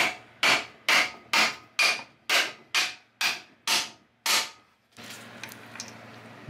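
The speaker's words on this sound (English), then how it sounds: "So now what we've got to do is tap the new pin in." Ten sharp, evenly spaced hammer taps drive a new pin into a bushing, each strike ringing briefly before the next, followed by a softer scraping rustle at the end.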